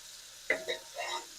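Onions sizzle as they hit hot bacon fat in a pan for Swiss chard callaloo soup, with a sharp initial crackle followed by softer bursts of frying.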